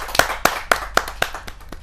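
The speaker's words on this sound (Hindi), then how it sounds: "जोरदार तालियों के साथ हम स्वागत करें" Sharp, evenly spaced hand claps, about seven in under two seconds, welcome a poet at a Hindi kavi sammelan poetry gathering. They are close and fairly loud, with no talking.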